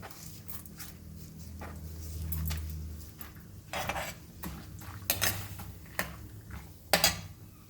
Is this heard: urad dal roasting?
yes